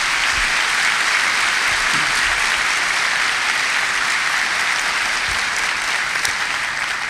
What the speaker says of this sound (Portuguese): Uma salva de palmas para recebê-la